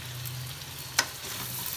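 Pumpkin and mango curry with fenugreek and sugar fries softly in a pan, a low steady sizzle broken by one sharp scrape of a stirring spoon.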